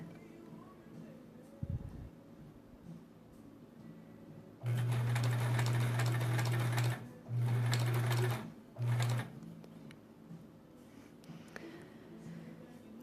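A sewing machine stitches a quilt block for a sampler quilt in three loud bursts of rapid, steady motor-driven whirring and needle thumping, separated by short pauses in a quiet room.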